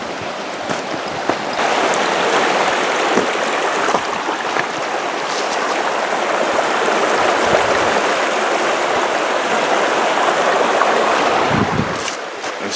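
The East Fork River rushes past a riverside campsite with a steady, broad watery roar, loud and constant throughout with no voices.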